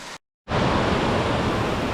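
A mountain torrent in the Ourika valley rushes in a dense, steady roar of water, loud and close, after a brief cut to silence at the start.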